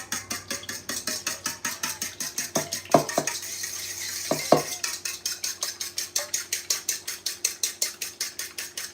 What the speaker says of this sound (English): We're gonna use that fork we had earlier as well.